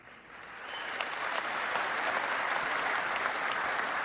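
A large crowd at a presidential inauguration applauds, swelling from a soft start into sustained, dense clapping that holds steady and moderately distant, with no talk over it.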